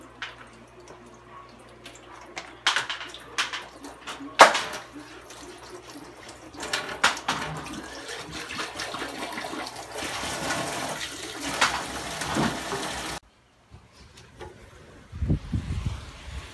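Liquid pours through a kitchen sieve, a splashing, trickling flow with uneven bursts and drips that goes on for a while, pauses abruptly, then resumes briefly.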